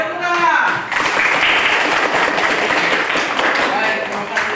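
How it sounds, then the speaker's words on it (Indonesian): Students in a classroom applaud together, a dense, steady wash of many hands clapping at close range for several seconds, then slowly thinning. "Oke, tepuk tangan."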